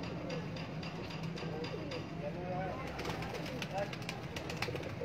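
Pigeons of a fancy breed coo in low, steady throaty murmurs that run through the whole clip, with fainter chirps over a constant background murmur.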